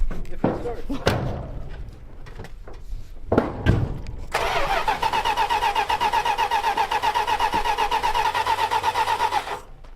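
An abandoned Chrysler cranks and fires up after some thumps and a door slam, then settles into a loud, steady, slightly uneven idle with a rapid rhythmic pulse close by; people talk briefly before it starts.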